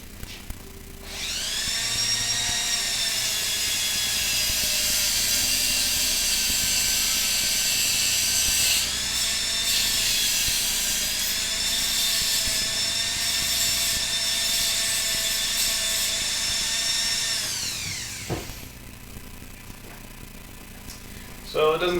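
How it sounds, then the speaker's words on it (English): Dremel rotary tool cutting off a gear pin on a Rock 'em Sock 'em Robots toy, a loud high-pitched whine that spins up and holds steady for about sixteen seconds before winding down, with no talking. "use the Dremel tool to cut that off"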